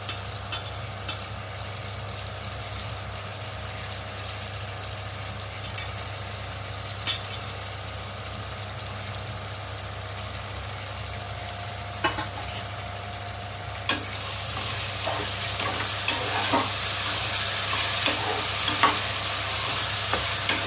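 Coriander and mint leaves frying in a pan for bachelor-style egg biryani, a steady close sizzle with occasional stirring scrapes, growing louder and brighter in the last few seconds; no voices.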